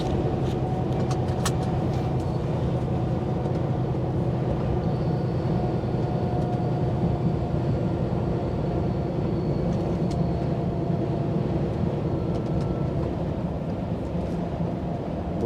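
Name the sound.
Scania truck retarder braking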